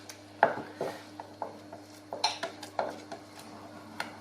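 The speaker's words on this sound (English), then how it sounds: "you need to stir this fast now until it thickens right up" Custard stirred fast in a pan with a utensil, giving quick repeated scraping clinks against the metal in an uneven rhythm, close and clear with no talk.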